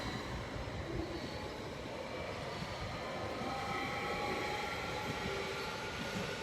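A train runs past in Lausanne, Switzerland, a steady loud rumbling roar with rail noise and faint squealing tones sustained through the whole stretch, with no voices over it.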